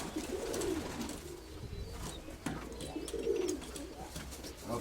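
Domestic pigeons, a pair with a newly hatched squab, cooing in a loft: low, throaty coo phrases repeat twice over steady ambient background, moderately near and fairly quiet.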